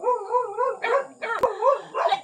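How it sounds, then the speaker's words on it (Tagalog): A dog barks and howls in a run of yips and drawn-out, wavering cries, close and fairly loud, with no talk over it. "At may aso."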